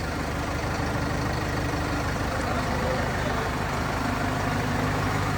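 A new Sonalika DI 55 four-cylinder tractor idling at night, a steady low diesel rumble with a constant throb, close and even throughout, with faint voices in the background.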